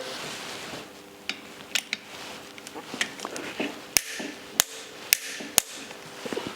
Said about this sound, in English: I've torqued down the cylinder head to its final torque.